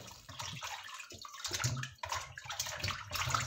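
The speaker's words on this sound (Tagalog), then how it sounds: "I-wash natin ang ating karne." Raw pork pata, a pork leg, rinsed by hand in cold water in a kitchen, with close splashing and sloshing and a running-water wash throughout. There is no talk.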